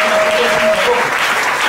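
A church congregation at a Sunday worship and thanksgiving service applauds the Lord, a dense, loud, steady wash of clapping heard close throughout.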